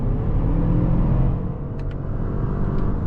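Lexus NX450h+ plug-in hybrid driving with its eCVT in sport mode, a steady low engine and road rumble droning throughout at moderate, even level, with a couple of faint high ticks midway.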